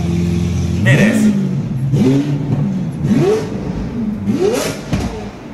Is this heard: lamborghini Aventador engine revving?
yes